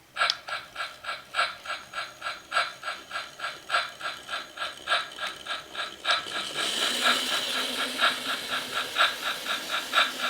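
A Hornby Thomas and Percy electric toy train set plays an engine sound effect from its station building: a steady rhythmic chuffing loop that grows fuller and noisier halfway through, heard close up with no voices.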